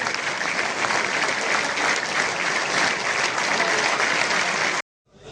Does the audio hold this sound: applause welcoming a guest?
yes